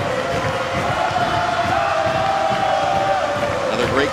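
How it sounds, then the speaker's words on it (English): A volleyball crowd fills Gregory Gym with a dense, continuous roar of cheering and chatter, close and loud throughout, with a commentator talking over it. "Another great crowd here at Gregory Gym."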